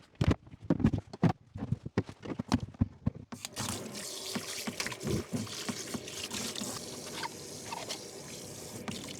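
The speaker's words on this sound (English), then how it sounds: "I'm going to rinse these berries here." Fresh berries rinsed under running filtered water. A few sharp clatters and knocks come first, then a steady close splashing flow continues to the end.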